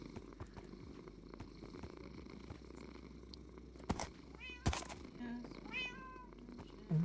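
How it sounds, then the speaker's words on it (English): Purring of a cat from Minecraft, the block-building video game, lying on a bed, a soft steady rumble running continuously with a couple of brief chirpy meow-like cues over it. "I didn't know they made purring noises. It's really loud."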